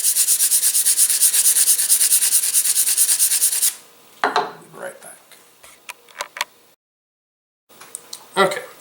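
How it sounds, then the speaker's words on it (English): Sandpaper rubbed back and forth over a carbon glider part being thinned, a steady rapid scratchy rasp up close that stops partway, followed by scattered handling clicks and brief silence. "go outside and do this and sand it till it's real thin back here"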